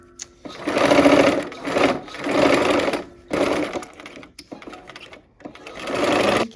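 A home sewing machine stitches a quilt block in several bursts of rapid whirring, pausing briefly between runs, close and clear with no talk.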